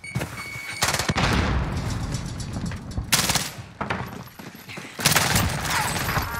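Rapid bursts of light machine gun fire from the Finn LMG in Warzone, loud and close, with sustained automatic fire in several bursts and brief pauses between them.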